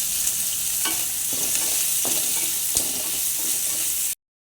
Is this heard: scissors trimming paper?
no